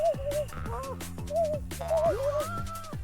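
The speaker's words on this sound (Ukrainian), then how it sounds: "Навіть сова, блін, погнала." Owl from the game Samorost 1 hooting in several short, clear tonal calls, with animated melodic sounds around it. No speech is audible.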